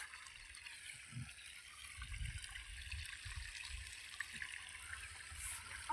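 Water flowing into a 500-litre water tank in a field, a faint, steady trickling rush with soft low gurgles, heard from close by without talking.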